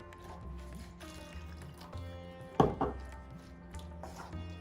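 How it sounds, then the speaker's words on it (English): Water is poured into a pan of chickpea and spinach curry, a short splashing burst in the middle of a quiet kitchen background with low hum. "Now we'll add a little bit of water."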